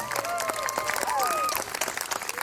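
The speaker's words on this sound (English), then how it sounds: "And let's give this wonderful group behind me a round of applause." Audience applause for the band at a city band concert, a dense patter of clapping with tonal voices or music riding over it, holding steady for a couple of seconds before thinning toward the end.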